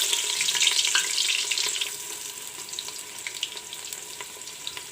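Sliced onions fry in hot oil, reused after frying potatoes, with a dense, continuous crackling sizzle that is loud at first and settles to a steady hiss with small pops.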